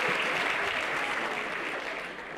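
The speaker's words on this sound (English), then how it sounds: "Clap for that man." A comedy club crowd at a stand-up show applauds comedian Alex, thick continuous clapping filling the room at full strength before easing slightly toward the end.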